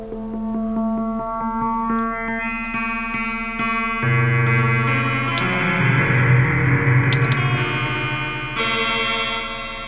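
A Waldorf Blofeld synthesizer plays its sine wave oscillator with FM switched off, giving steady, clean sustained tones that shift to new pitches around four and nine seconds, loud and alone with no talking.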